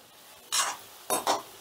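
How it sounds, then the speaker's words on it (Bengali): Pumpkin kofta balls fry in oil and are turned, giving three short bursts of hissing sizzle and scraping against a quiet background. "কোফতাগুলোকে ঘুরিয়ে ফিরিয়ে আমি আরেকটু লাল লাল করে ভেজে নেব"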